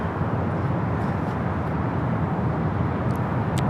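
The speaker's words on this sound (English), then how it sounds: "We got the Emirates A380 Super heading our way." An Emirates Airbus A380 airliner approaching LAX produces a loud, steady broadband roar that stays constant and close, with no talk over it.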